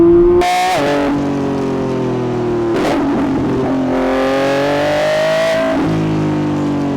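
A Lamborghini Revuelto's engine drones steadily while driving, rising and falling in pitch through revs and gear changes, close and loud with no talk.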